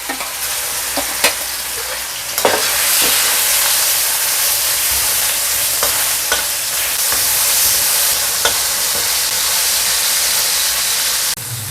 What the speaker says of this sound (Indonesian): Ini ayamnya semi-semi tak goreng ya